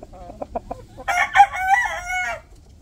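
A Rhode Island Red rooster gives a few short clucks and then one loud, drawn-out crow nearby.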